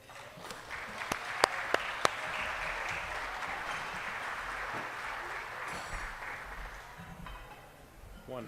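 Audience applause welcoming Joe Prisco at a senior summit, a broad steady wash of clapping from a sizable crowd throughout, with a few sharp louder claps standing out near the start before it gradually tapers toward the end.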